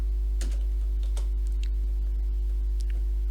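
Typing on a computer keyboard while entering a search for a Minecraft server plugin: a few sparse, soft keystrokes sit over a constant low electrical hum.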